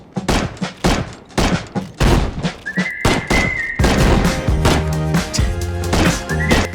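Sharp, loud gunshots from a video game in a drug cartel territory-control match, fired in uneven bursts of single cracks, followed by a sustained whistling tone and rumbling game sounds near the end.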